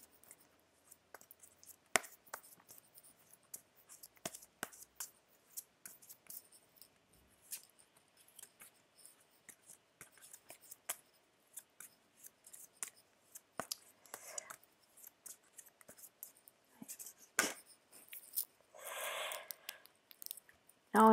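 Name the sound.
shuffling oracle cards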